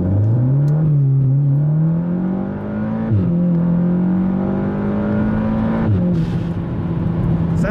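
Audi S3 8V with a GFB DVX T9659 blow-off valve, engine droning loud and steady with rising revs, broken by sharp venting pops near three and six seconds.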